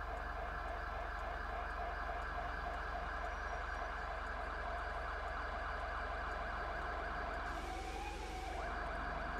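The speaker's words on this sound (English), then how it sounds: "Must be an ambulance." A wailing ambulance siren in a video game rises and falls continuously, loud and steady under ambient engine hum, with a brief higher tone near the end.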